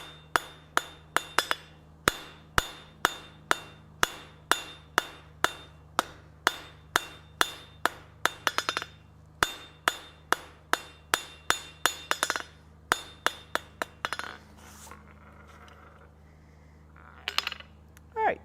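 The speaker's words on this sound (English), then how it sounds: "We're just going to draw this out nice and regular like with a nice long taper." A hammer forges spline stock on an anvil, drawing the bar out into a long taper. Sharp ringing strikes land in a steady, even rhythm for about fourteen seconds, then turn into a few scattered, irregular blows, with no talking.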